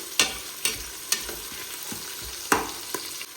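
Biryani ingredients frying in a pan make a low, steady sizzle, broken by several sharp clinks and scrapes of a spoon stirring against the pan.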